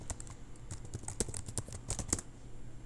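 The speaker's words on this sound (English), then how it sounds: "I can't type today" Quick, uneven clicking of keys on a computer keyboard, close but soft, with steady light keystrokes and no voices.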